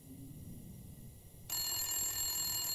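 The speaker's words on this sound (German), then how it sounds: "Shelter-Telefon." Shelter telephone ringing inside The Long Dark survival game, a bright electronic bell tone that starts abruptly midway and continues steadily and fairly loud over a quiet low room hum.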